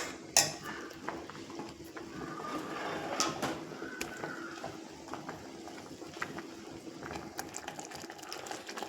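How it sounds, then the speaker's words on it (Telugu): A spoon scrapes and clinks against a cooking pot as a paya curry mixture is stirred, steady close scraping with soft sizzling, no talk. "దీన్ని కూడా బాగా నీట్గా మిక్స్ చేసుకోవాలి"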